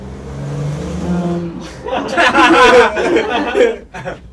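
A voice mimics a roaring car engine with a rough, rising growl. Speech comes first, and chuckling and laughter blend into the imitation.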